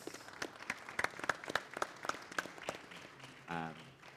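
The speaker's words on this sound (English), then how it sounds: "If we can give a warm round of applause to our panelists" Sparse, scattered hand claps from a conference audience for the panelists, fairly quiet and uneven, with a voice briefly speaking near the end.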